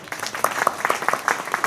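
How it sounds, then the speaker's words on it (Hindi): Quick, rhythmic hand claps sound at a satsang gathering. The short, evenly paced burst is fairly close and clear. "ताली बजाई"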